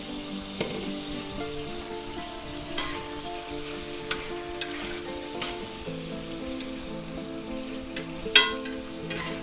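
Ground beef and vegetables sizzle and fry in a pan for a stir fry, a steady crackle broken by scattered clicks and scrapes of stirring, with one sharper knock near the end.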